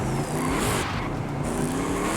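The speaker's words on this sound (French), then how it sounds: "Je sais pas d'où sort ce moteur, j'ai jamais entendu ce son là en fait" A swapped engine in an HDT VK Commodore in Forza Horizon 5 roars loudly and continuously, its pitch rising and shifting as it revs hard, with a hint of tyre squeal.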